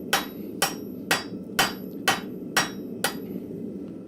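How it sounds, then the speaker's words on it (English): A hammer strikes metal in a blacksmith forge, seven evenly spaced sharp blows at about two per second, each ringing briefly over a low background hum. "Using the flat side on this hammer is not as good as using the rounded side."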